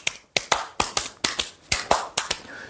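A lecture audience at a Korean speech event claps in quick double beats, with sharp, close claps in paired bursts repeating steadily several times.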